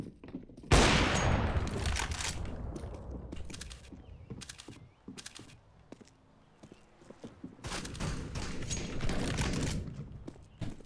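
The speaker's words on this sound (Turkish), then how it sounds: "Pompalı sesi nereden geliyor ya?" Shotgun blasts from a pump-action in Counter-Strike: Global Offensive, loud broadband bursts with a sustained volley early on and another burst cluster near the end, interspersed with mechanical clicks and footstep-like taps.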